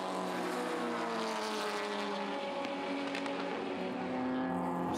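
BMW race cars lap Hampton Downs circuit in a tight pack, engines screaming at high revs with layered harmonic whine, a continuous loud roar throughout with no pauses.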